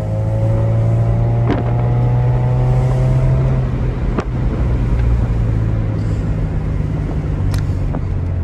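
A Mercedes SLK 230 Kompressor engine hums loudly and steadily close by, with rising and falling tones as it revs, heard from inside the moving car.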